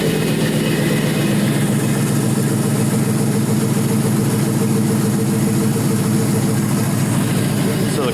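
A 5.3 LS V8 engine, a turn-key package with 100k miles, idles steadily right after a cold start, a loud, close, continuous low rumble with even pulsing throughout.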